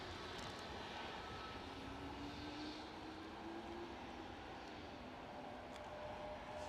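A JetBlue airliner on its takeoff roll at Edinburgh Airport, a steady broadband jet roar heard from a distance, continuous and fairly faint throughout with a slowly rising engine tone.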